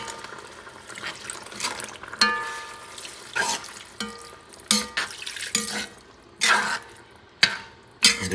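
Beef stock is poured into a pot of oxtails being cooked Lebanese style, giving a bubbling, sizzling liquid sound broken by irregular splashes and clinks, close and moderately loud with no talking.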